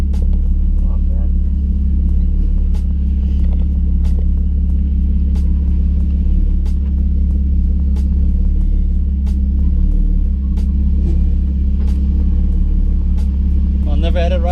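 A BMW compact drift car at a drift day on Midland circuit, missing its rear end, fills the cabin with a loud, constant engine rumble and road drone, with occasional sharp rattles and knocks as people talk over it.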